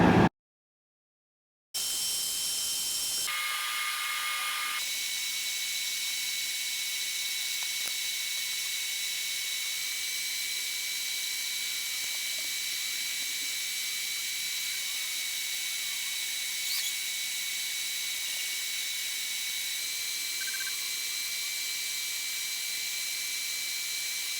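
A Kasori dual zone air fryer runs with a steady, even fan whir and hiss, constant and moderately quiet after a short silent start.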